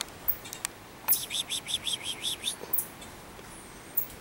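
A small bird in a mangrove gives a quick run of about eight bright, evenly spaced chirps, fairly close and clear, with a few scattered single tweets before and after over a quiet, hissy background.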